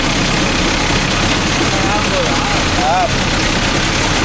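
A Mahindra Arjun Novo 605 DI tractor fitted with a crop cutter runs at around 1000 RPM, giving a loud, steady, close-up engine drone with a constant rumbling texture throughout.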